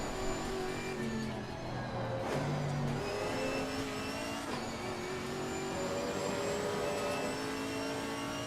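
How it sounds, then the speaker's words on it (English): A race car engine in the video game Assetto Corsa Competizione whines and revs continuously, pitch rising and falling with gear changes, steady and fairly close throughout. "This car sounds like a broken washing machine."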